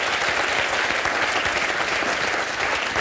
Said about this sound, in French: on peut vous applaudir, monsieur Dumas, vraiment.